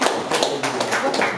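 A brief, dense burst of clapping from a crowd at a recognition event, continuous and fairly loud throughout.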